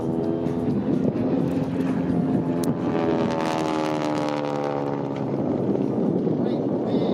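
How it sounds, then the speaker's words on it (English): Stunt plane flying an aerobatic routine at the 2025 Bremerton airshow, its engine a steady loud roar with a pitch that climbs and shifts as it maneuvers, heard continuously with a commentator talking over it. "as he flies through his aerobatic routine in the Stunt"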